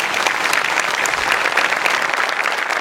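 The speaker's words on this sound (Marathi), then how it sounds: "त्यांच्याकरता आपण एकदा टाळ्या वाजवूया" A studio audience claps for the costume and makeup crew of a Marathi comedy sketch show. The dense, even applause is sustained and fairly loud across the whole moment, with no voices over it.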